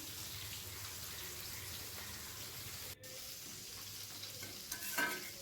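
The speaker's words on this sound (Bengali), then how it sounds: "এই কড়াইটার মধ্যে আমি বড়াগুলো ভেজে নিচ্ছি" Lentil fritters fry in oil in a small black iron wok, giving a soft steady sizzle with occasional stirring scrapes and clinks. Faint and close.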